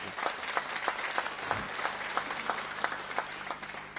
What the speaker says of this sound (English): She deserves your applause